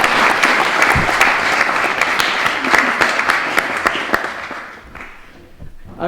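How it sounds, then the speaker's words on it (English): Round of applause from diners at a gala dinner in Edinburgh, loud, dense clapping from a large room that swells briefly, then thins and fades out toward the end. "So can we give a big round of applause to Araceli?"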